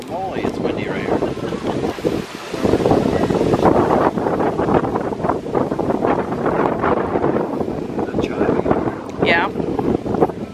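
Wind gusts buffet the microphone outdoors at Epcot and Hollywood Studios at Walt Disney World, a loud, steady rumble that swells and stays strong throughout, with people talking over it.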